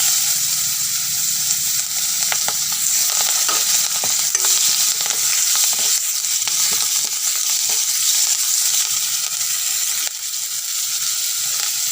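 Chopped onions fry in hot oil with bay leaves and whole spices, giving a continuous loud sizzle with stirring clicks and scrapes of a spoon against the pan.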